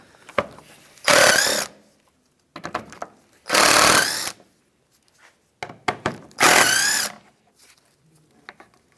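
A power tool drives out the three 10mm bolts holding the license plate bracket on a 2007-2015 Mazda CX-9, in three loud, close bursts of about half a second each with short quiet gaps and clicks between them.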